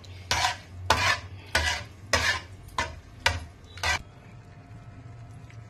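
Keema, minced meat, is stirred in a pan over high heat, with six firm scraping strokes of a spoon against the metal coming roughly every half second over a low, steady cooking hiss.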